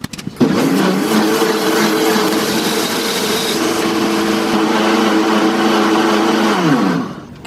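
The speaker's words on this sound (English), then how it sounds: "So I'm gonna blend this a little longer." Blender whirring through a powdered bone broth noodle mixture with xanthan gum and toffee flavour drops, a loud steady motor drone that starts abruptly, runs for about seven seconds, then winds down.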